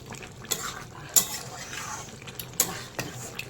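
Spoon stirring a simmering vegetable curry of mushroom, cauliflower and chickpeas in a metal pot, scraping and clinking with a few sharp metallic knocks against the rim over a faint bubbling background.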